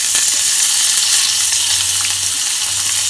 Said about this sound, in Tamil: இதை போட்டு கொஞ்சம் நல்லா வதக்கிடுவேன்.